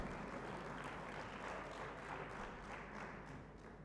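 Audience clapping at a youth politics symposium in Uganda, a steady dense wash of applause from a seated crowd that holds even throughout and eases slightly toward the end.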